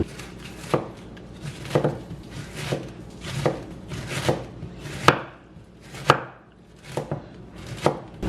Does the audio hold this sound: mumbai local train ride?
no